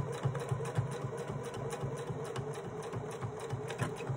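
A sewing machine stitches along the hem of a small sailboat sail, a rapid steady mechanical chatter with brief pauses and restarts, close and moderately loud.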